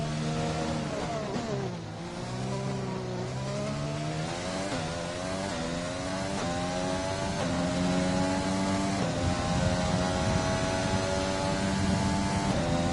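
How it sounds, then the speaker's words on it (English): A Formula 1 car's internal combustion engine revs loud and close during a France Grand Prix race in F1 2020, its pitch climbing steadily, dipping briefly near two seconds, then rising again in a continuous scream with no talk. "Yep, the internal combustion engine."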